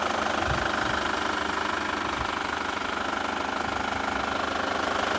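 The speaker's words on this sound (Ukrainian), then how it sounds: "Турбінка працює супер, двигунчик працює супер." A 2.2-litre diesel engine in a Chevrolet Captiva idles steadily nearby with a low, rhythmic knocking rumble that stays even throughout.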